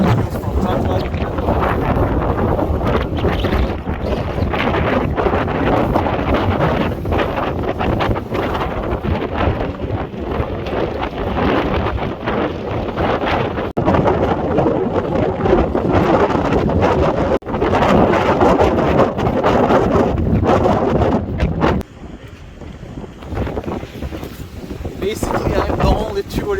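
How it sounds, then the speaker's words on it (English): Strong wind on the coast at Cavtat, Croatia, roaring and buffeting close against the microphone in continuous heavy gusts, with a brief lull near the end. "here it's a little bit windy"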